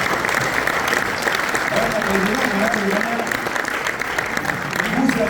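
An audience applauds continuously during a Saturday evening contest at the 2023 Alpes Aventure motorcycle festival, a dense even wash of clapping with a voice speaking over it.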